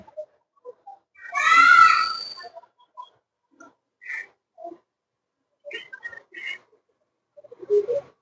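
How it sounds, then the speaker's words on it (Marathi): A loud, harsh cawing call rings out near the start, followed by scattered shorter caws and bird chatter at a distance in an otherwise quiet outdoor setting. "कावळे खातात खाऊ पात्रावर"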